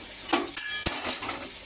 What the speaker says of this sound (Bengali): বিনস গাজর ভেজে নিচ্ছি